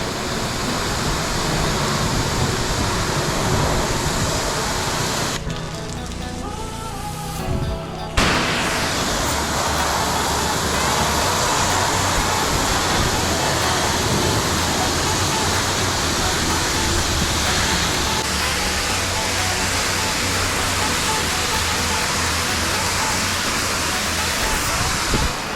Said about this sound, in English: Sprayed bleach everywhere, rinsed all the bleach away.